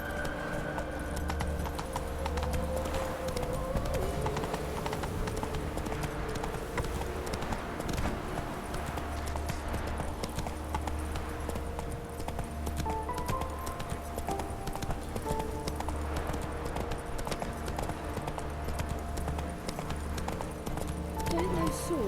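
Roach, Geralt's horse in the video game The Witcher 3, gallops with steady, continuous clip-clopping hooves throughout, layered over game music and occasional spoken voices.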